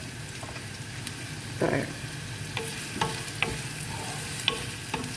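Onions frying in mustard oil for a mustard katla fish dish, a steady close sizzle with occasional clacks of stirring; a voice briefly speaks over it.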